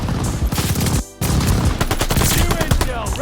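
Rapid automatic gunfire in Call of Duty Vanguard while jumping, loud and close, with one short pause partway through before the burst resumes.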